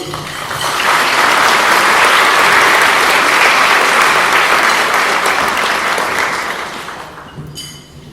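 An audience breaks into loud, sustained applause to welcome a speaker named Naomi at a talk in Australia. The clapping swells quickly, holds steady for several seconds, then tapers off.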